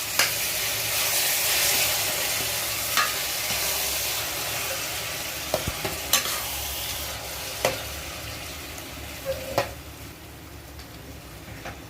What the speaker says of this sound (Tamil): ஊற்றிட்டு இப்போ நல்லா கிளற போகிறோம்.